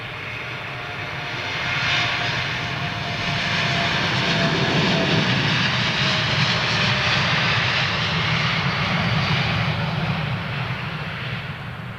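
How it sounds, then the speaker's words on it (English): An Airbus A330neo jet on an emergency approach at Heathrow Airport makes a loud, sustained engine roar that swells and holds steady, with no voices. "Emergency 330 Neo on its way."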